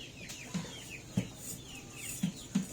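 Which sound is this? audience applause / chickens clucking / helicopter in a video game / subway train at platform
chickens clucking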